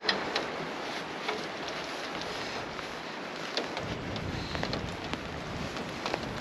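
Gusty wind buffets the microphone beside a boat on a remote Alaska island in near-freezing rain, a steady broadband roar with small gust peaks and no voices.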